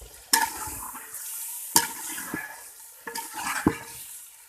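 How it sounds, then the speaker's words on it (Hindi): Meat being browned in a pot for chicken biryani, with a steady sizzle and three sharp stirring scrapes spaced about a second and a half apart, close and fairly loud. "5 से 10 मिनट के लिए गोश्त को अच्छे से भून लेंगे।"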